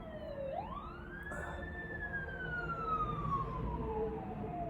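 An emergency vehicle siren, fire truck or ambulance, swoops up and then slowly falls as it passes. It sounds fairly distant and faint over a low rumble of traffic, with no talk.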